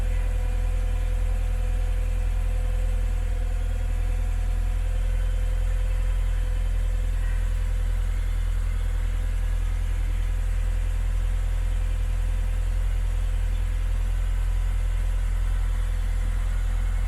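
A Mk3 Ford Cortina engine, rebuilt after fire damage, idles steadily just over 1,000 RPM with a low, even rumble that holds constant throughout, with no voices.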